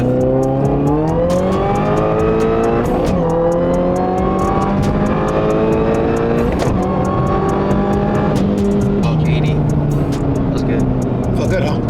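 A supercharged Toyota GR86 with twin-screw blower pulls hard while driving, its engine note climbing through the gears in loud rising sweeps with brief drops at each shift, steady and close throughout.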